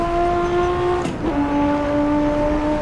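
Race car engine on the standard Nordschleife track in the Assetto Corsa racing game, a steady loud droning tone that drops in pitch briefly around a gear change, then holds a lower steady note, with no talk.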